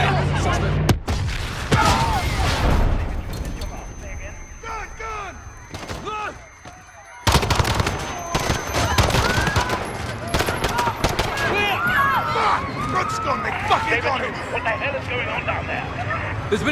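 Heavy gunfire and explosions rage during a detonation at Piccadilly Circus in Call of Duty: Modern Warfare, with dense crackling shots and booms under shouted voices and crowd noise that continue almost without a break.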